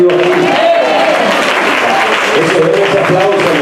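A church congregation bursts into loud, dense applause in a worship service, with a few voices calling out over the clapping throughout.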